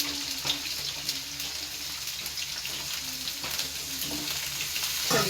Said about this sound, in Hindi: चलिए सब्जियों को थोड़ी देर पका लेंगे अच्छे से।